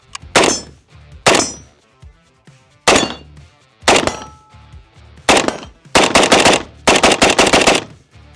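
A Stoner 63 light machine gun fires a series of loud, close bursts outdoors, each a sharp rattling string of shots with pauses between them, ending in longer sustained bursts.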